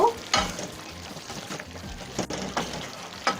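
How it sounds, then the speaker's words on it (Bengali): Bottle gourd leaves and shing fish are stirred in a hot pan with a steady sizzle and a few scraping strokes of the spoon, close and fairly loud, with no talking. "এখন আমি একটু ভালো করে নাড়াচাড়া দিয়ে দেব"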